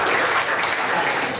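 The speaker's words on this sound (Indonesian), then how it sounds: "kita tepuk tangan dulu." A class of students applauding, a dense, steady patter of many hands clapping together for a brief moment.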